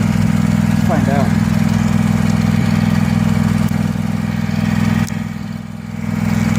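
Craftsman 6500 garden tractor mower with a 54-inch deck running while mowing, a loud steady low engine drone that dips slightly near the end, with a person talking over it.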